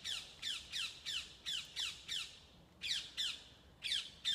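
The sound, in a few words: ring-necked parakeet squawking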